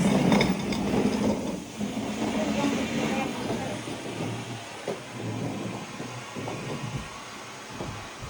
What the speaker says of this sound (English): I'm still vacuuming because I'm vacuuming this whole side.